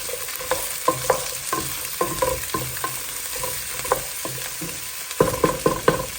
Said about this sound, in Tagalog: ilagay ang courgette, zucchini. Ayan. So, gitahin muna yan.